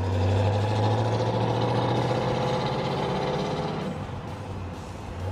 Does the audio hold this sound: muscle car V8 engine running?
yes